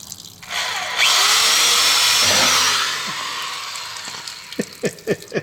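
A power drill bites into a camper's steel bumper while a sewer hose holder is being installed, rising into a loud, strained whine for about three seconds before winding down, followed by a few close knocks.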